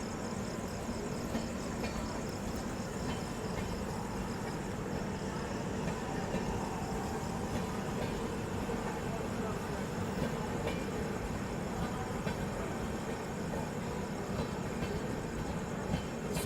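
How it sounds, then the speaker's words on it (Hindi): The Supaul–Pune Express pulls out of Danapur station with a continuous, even rolling rumble and rattle of wagons, steady and fairly distant throughout, with no voices. "यहाँ सामने मेरे ख्याल से सुपौल पुणे एक्सप्रेस का डिपार्चर हो रहा है"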